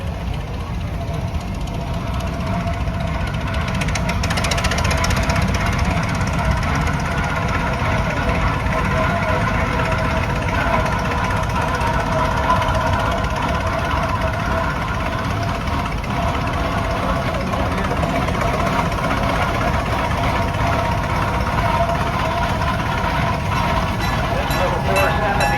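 A Case cross-motor tractor engine runs steadily at idle for the whole stretch, a low, even rumble with a faint knocking beat, loud and close, with voices murmuring faintly underneath.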